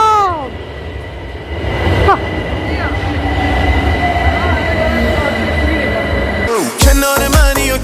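Subway metro train running underground, a loud continuous rumble with squealing wheel tones throughout and clattering bursts near the end, with faint voices in the background.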